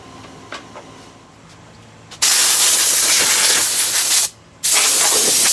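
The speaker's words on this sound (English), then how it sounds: "I had already blown the sawdust off of there, the sanding dust off" Compressed air blasting sanding dust off a turned ipe wood piece, a loud steady hiss that starts abruptly after a few faint taps, cuts out briefly, then resumes.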